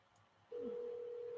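A telephone dial tone starts abruptly after a short quiet pause and then holds steady and clear while a call is being placed.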